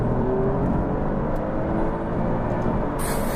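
Alfa Romeo Giulia QV turbocharged engine pulling hard in third gear toward the red line, a steady loud close-miked drone with a brief hiss at the end.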